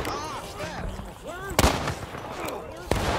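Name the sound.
musket volley fire from the video game War of Rights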